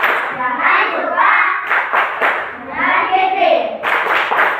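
A group plays the 'tepuk buli' clapping game as an icebreaker, sharp hand claps landing in short bursts among children's chanting voices.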